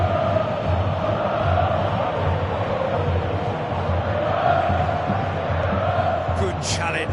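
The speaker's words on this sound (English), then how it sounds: "Crowd appreciates good football all round there." Stadium crowd in the Pro Evolution Soccer 2017 football video game, a steady, dense roar of many voices holding evenly throughout, with a brief sharper burst near the end.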